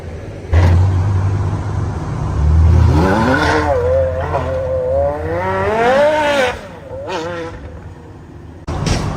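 A Maserati MC12 Corsa supercar on the road, roaring close by as it revs and accelerates through rising gear shifts, loud and then fading, with some tire noise.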